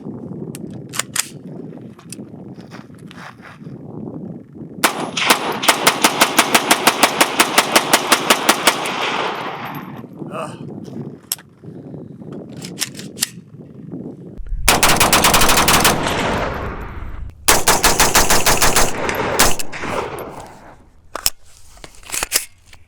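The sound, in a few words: PSA KS-47 7.62x39 rifle mag dump, rapid gunfire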